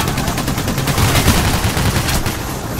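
Rapid bursts of automatic gunfire from the heist shooter Payday: The Heist fill the moment, loud and dense with overlapping shots in a continuous fusillade and no pauses.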